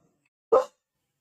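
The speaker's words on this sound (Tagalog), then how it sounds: "maingay itong aming aso." A household dog lets out one short, sharp bark, loud and close, in an otherwise quiet room.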